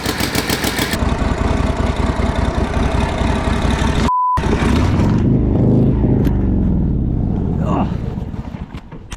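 A 1949 Harley-Davidson WL flathead 45 barn-find motorcycle engine runs loud and close with a steady, rough, throbbing chug and a brief dropout, with a voice speaking over it.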